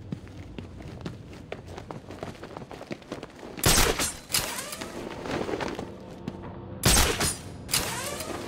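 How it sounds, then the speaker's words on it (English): Footsteps patter in a Batman: Arkham City game scene, then two loud gunshots from a bell tower crack out a few seconds apart, each followed by a ringing, echoing tail. "The gunshot came from the bell tower."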